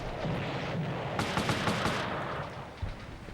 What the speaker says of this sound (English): Shoot this man.